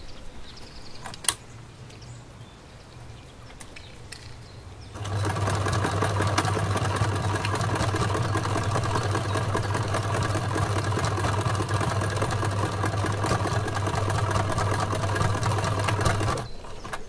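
Sewing machine stitching fabric pieces of an otter plush, starting after a quiet pause and then running steadily with a fast, even mechanical whir until it stops near the end.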